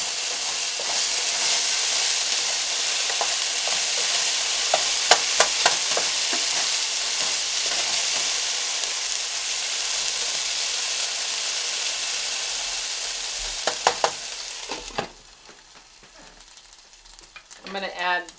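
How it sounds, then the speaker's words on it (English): Bacon and onion sizzling and frying in a pan with Italian seasoning for breakfast burritos, a steady loud hiss with scattered scraping stir clicks, then quieter pan sounds with a few taps near the end. "Some Italian seasoning. And then give it a good stir."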